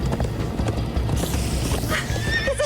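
Horses in Minecraft: Story Mode gallop in a fast, loud clip-clop close by. Whinnies and neighs sound over the hoofbeats during a frantic escape ride.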